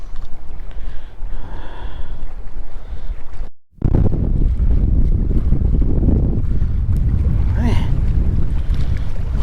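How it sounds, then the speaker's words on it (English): Strong wind buffets a bass-fishing boat on a lake, roaring steadily across the whole stretch with heavy low rumble, a brief dropout near the middle, and faint water wash beneath. "Hoping that wind was going to lay down. I think it's getting worse."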